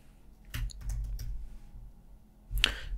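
A computer keyboard clacks in a few quick, close keystrokes, then a pause, then another short burst of typing, all fairly faint.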